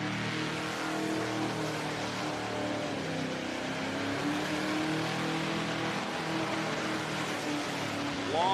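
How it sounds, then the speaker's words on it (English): Car doing a burnout at Summernats, the engine holding a high, strained roar as tyres skid and spin continuously, fairly distant under crowd noise, with a sharper rise in pitch near the end. "Long skid, a while to get that first tyre down, but she's got there."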